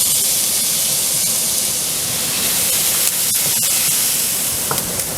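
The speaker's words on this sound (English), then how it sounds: "And now I'm going to saute my onions." Chopped onions sautéing in a pan of hot vegetable oil and butter, giving a steady, loud, even sizzle and hiss with no breaks.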